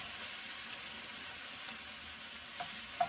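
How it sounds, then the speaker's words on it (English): Scrambled tofu fries in a pan with a steady, fairly quiet sizzle and hiss throughout, and a couple of faint clicks near the end as it is stirred, with no one speaking. "give that a stir"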